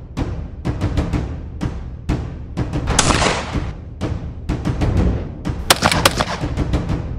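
Shotgun blasts at a shooting range, a dense run of sharp, loud reports fired in quick succession, some overlapping, with a longer roaring burst in the middle and more rapid shots near the end.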